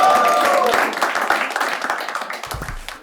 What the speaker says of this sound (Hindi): जोर तालियां हो जाए.